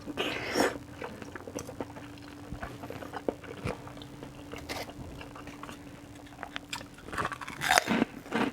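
Crunchy kerupuk crackers being bitten and chewed with a ketupat sayur tahu meal, irregular crisp crunches and mouth noises up close, growing louder near the end.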